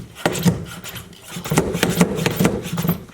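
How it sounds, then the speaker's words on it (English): A brake bleeder's hand pump being worked on a Ford Sapphire RS Cosworth brake system: rhythmic rasping strokes, close and fairly loud, roughly five pumps in quick succession with no talking. "Then we'll pump this handle and we'll put some pressure in this system."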